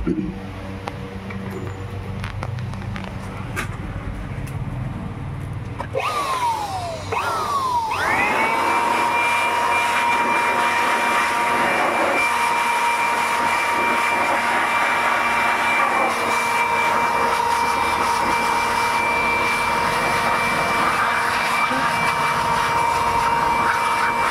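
A vacuum machine starts with a rising whine partway through and then runs steadily at a loud, even roar while cleaning an HP LaserJet 1020 printer, after some handling noise.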